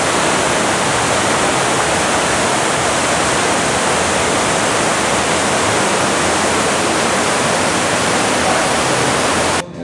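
A waterfall in Las Vegas, near the Wynn, roars steadily nearby, a dense, constant rush of falling water filling the whole stretch without pause.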